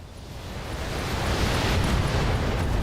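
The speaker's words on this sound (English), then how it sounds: "Ammo explosion taking him down." Ammo explosion destroying an Orion mech in a video game: a broad, rumbling blast that swells over the first second and holds as a loud, sustained roar with crackling debris.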